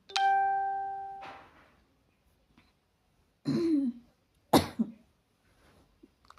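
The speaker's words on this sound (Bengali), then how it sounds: "কাশি আসছে" A child with a heavy cold coughs and clears his throat in a quiet room, with a couple of short rough bursts separated by long silent pauses.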